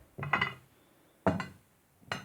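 A spoon stirring honey with nigella seeds in a bowl, three close, distinct scraping clinks spaced about a second apart in an otherwise quiet room.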